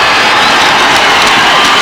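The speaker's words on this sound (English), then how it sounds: "The Titans crowd rises, begging for defense" A packed stadium crowd at a 1996 Michigan high school Class B football final roars and cheers for the Titans' defense, loud, sustained and close, with no break in the wall of noise.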